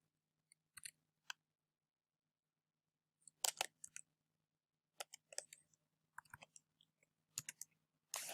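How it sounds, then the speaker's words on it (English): Sparse bursts of clicky computer keyboard typing in a quiet room, short clusters of keystrokes separated by pauses, close and faint. "I'm actually just going to type this in."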